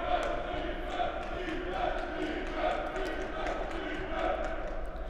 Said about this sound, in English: The crowd seems to be screaming defense, ironically.